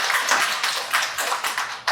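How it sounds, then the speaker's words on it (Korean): Audience clapping at a Korean literary panel session on minorities, a steady patter of many hands close and fairly loud, pulsing in small waves for about two seconds with no talk. "박수 한번 부탁드립니다"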